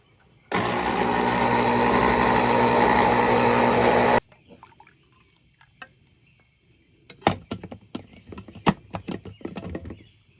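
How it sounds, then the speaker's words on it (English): An electric juicer runs as Christmas jam is made, giving a loud, steady motor whir for roughly three and a half seconds before cutting off. Scattered clatter and knocks of handling follow. "I've got my trusty juicer here that I love"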